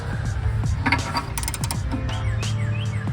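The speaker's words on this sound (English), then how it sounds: "Let's get ready to torque the fuck out of this." Wrench clicking as a new oxygen sensor is torqued into a BMW 750Li, quick ratchet-like clicks and metallic ticks repeating over a steady low hum, close and moderately loud.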